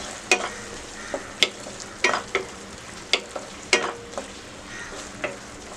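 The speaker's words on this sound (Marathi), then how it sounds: "यात आता कांदा घालूया. क्यूब्समध्ये कट केलेला आहे. 1 मिनिट परतून घेऊया यातच." Cubed onion sautés in a pan with a steady sizzle, punctuated by repeated sharp scraping taps of a spatula being stirred every second or so, close by with no voices.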